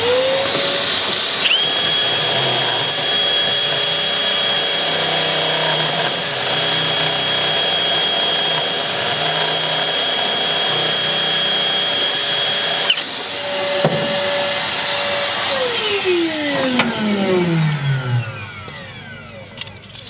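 An electric drill runs loudly and steadily at close range for a long stretch, briefly shifting pitch before spinning down to a stop.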